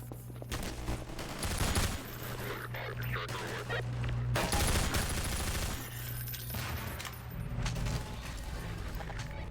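Rapid gunfire and mechanical weapon clatter in the virtual reality game Half-Life 2 VR, with dense bursts of shots and handling noises across the whole stretch, fairly quiet overall and without speech.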